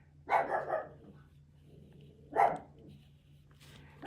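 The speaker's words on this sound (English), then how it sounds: "Got a barking dog there." A dog barks indoors in short bursts: a quick double woof, another bark about two seconds later, and a fainter one near the end, over a low steady hum.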